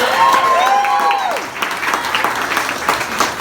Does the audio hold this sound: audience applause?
yes